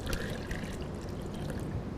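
Water is poured into a foaming car soap container, a steady splashing trickle of liquid heard up close during a car detailing event.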